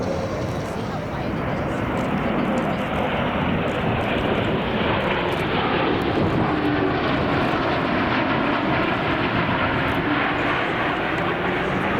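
A low-flying aircraft passes show center during a slow-speed pass at the Beale Air and Space Expo air show, with leading-edge slats and large powered-lift flaps extended. A loud, steady engine roar fills the whole stretch without pause.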